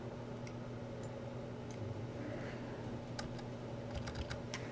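Computer keyboard typing while searching for a stock ticker symbol, with irregular clusters of sharp key clicks over a steady low hum, close and moderately quiet.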